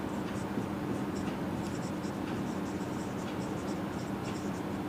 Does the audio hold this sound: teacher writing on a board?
yes